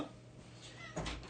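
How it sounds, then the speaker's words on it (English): A pet cat meows indoors, a short, fairly faint cry near the end of a quiet moment. "I got to let my cat out."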